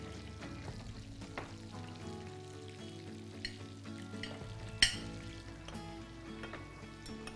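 Nuggets fry in oil with a faint, steady sizzle under quiet background tones and music. A sharp clink stands out partway through.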